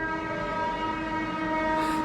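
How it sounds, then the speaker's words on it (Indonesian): A passing train blares its horn, a loud, close, sustained tone with steady harmonics held throughout, over the rumble of the rail cars. "Disetujui oleh kereta yang kenceng banget tumben ya klaksonnya."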